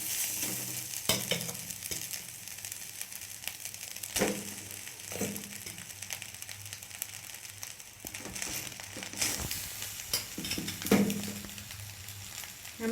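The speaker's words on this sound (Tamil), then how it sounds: "சாதம் போட்டு கிளறுங்க." Cooked rice being stirred into a pan of kovakkai (ivy gourd) fry, a steady soft scraping and shuffling with light sizzling, occasional louder scrapes of the spoon against the pan, no talking.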